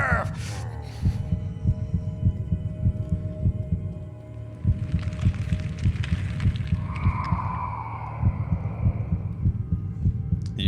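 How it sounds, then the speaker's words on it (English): Repeated heartbeat thumps pulse steadily through a Minecraft Decked Out dungeon run, with low throbbing beats, a brief pause midway, and game noises layered above. "You hear those heartbeats, guys?"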